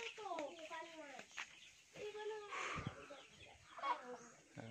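Chickens cluck close by, a hen with her growing chicks, giving short clucks and a few higher peeps in an outdoor rural setting, with people talking over them at times.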